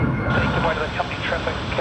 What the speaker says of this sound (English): you can see Virgin Australia has already begun its takeoff roll